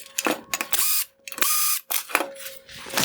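Phillips head screws are driven out of a Lexus ES350 LED headlight projector with a power driver, giving short whirring and ratcheting bursts separated by brief pauses, close and clear, with no talk.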